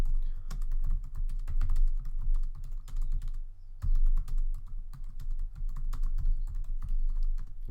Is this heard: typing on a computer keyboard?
yes